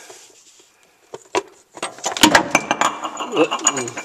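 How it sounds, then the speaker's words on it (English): A pulley slides off the water pump shaft of a Suzuki G16 1.6L engine in a 1995 Suzuki Sidekick, giving a short burst of scraping metal clinks and rattles, with a few lighter taps just before it. "now that bottom pulley should slide right off of there"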